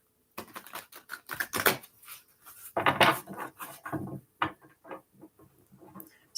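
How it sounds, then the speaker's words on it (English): Tarot cards being shuffled by hand, a quiet soft riffling and patter in several short bursts with brief pauses, close up, with no talking. "Give it a couple shuffles for you."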